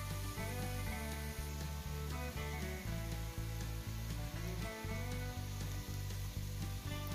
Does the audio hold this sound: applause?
no